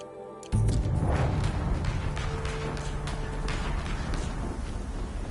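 A further explosion in Horizon Zero Dawn Remastered hits abruptly after a quiet moment and settles into a steady, heavy low rumble that lingers to the end.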